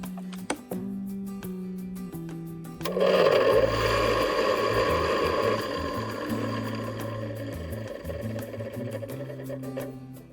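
Grandfather's old electric juicer switched on, an electric motor starting with a loud whirring hum that settles into a steady drone for several seconds, preceded by clicks and a low hum.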